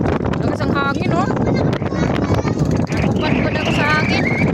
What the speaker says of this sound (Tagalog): Lakas ang hangin, grabe.